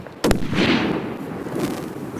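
A rifle shot fired while hunting chamois, pigs and goats along the Clarence River near Kaikoura, New Zealand: one sharp, loud crack near the start, followed by a long rolling echo across the open valley.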